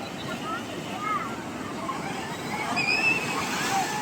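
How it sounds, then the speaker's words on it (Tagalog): Ocean surf at Sabang Beach, Baler, Aurora, Philippines roars in a constant broad wash, strong waves breaking continuously with wind buffeting the microphone, and a few faint high chirps above. "lakas ng alon."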